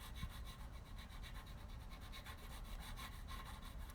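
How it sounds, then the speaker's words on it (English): StewMac nut slot files rasp back and forth in a guitar nut slot on a 2016 Gibson Les Paul 50s Tribute goldtop, giving quick, faint, rhythmic scraping strokes close by. "These are some StewMac nut slot files"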